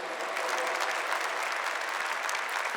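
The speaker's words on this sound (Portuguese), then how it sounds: "Pode aplaudir a madre" A congregation applauds the mother superior during a Catholic Eucharistic visit, with steady, dense clapping from many hands that fills the whole clip at an even level.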